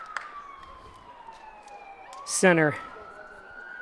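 An ambulance siren wails across a high school baseball game, a sweeping tone that rises to a sharp, louder burst of yelping as the vehicle passes close by, with faint background voices.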